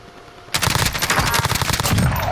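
Rapid automatic gunfire from Call of Duty Warzone erupts after a quiet half-second and rattles on loud and close in a continuous stream of shots.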